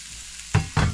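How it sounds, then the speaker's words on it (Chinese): Frozen fatty pork is stir-fried in a pan on a wood stove inside a camper, two quick close stirring scrapes over a low sizzle, with no talking. "先爆一下锅，因为还是冰坨坨，可能要爆10来分钟。"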